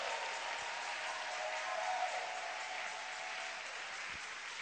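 A church congregation applauds in a sustained, even wash of clapping that fills the room, steady and fairly loud from start to finish.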